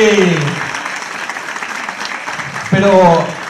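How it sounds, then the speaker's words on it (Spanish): Audience applause at a Christmas gala fills the hall steadily throughout, with a host's voice speaking over it at the start and again near the end. "¡Fuerte aplauso!"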